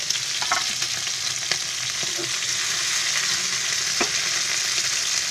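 Masala-coated chicken fries in a pan, a constant hissing sizzle with occasional soft scrapes and taps of stirring, close and steady with no talk.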